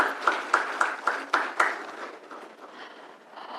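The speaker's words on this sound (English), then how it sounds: "can we hear a big round of applause once again for architect Ponni?" At an interior design awards ceremony, a small audience claps in a few sharp, evenly spaced claps that soften into a quieter, scattered patter.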